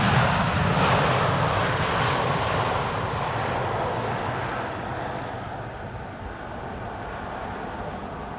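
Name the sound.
Boeing 787-10 aircraft arriving on runway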